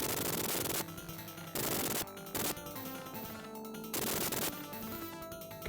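Machine gun fire in the Genesis video game Rambo III, with dense bursts of synthetic gunfire that start and stop in blocks over an ongoing game soundtrack.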